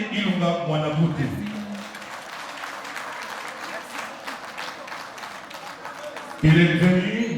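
Party audience applauding an honoured guest at a twelfth-anniversary celebration: a dense, sustained burst of many hands clapping, bracketed by an amplified voice talking before and after it.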